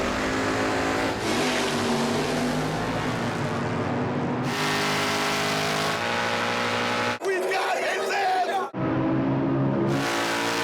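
Drag race cars, including a 1968 Plymouth Roadrunner, accelerate hard with loud, rising engine roars that shift through gears, cut abruptly between shots, and include a brief higher-pitched whining pass.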